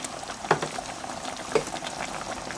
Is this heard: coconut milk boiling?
yes